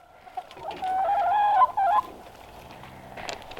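Chickens and a rooster cluck and call outdoors on a farm, loud and close, with one strong squawking call in the middle of the clip.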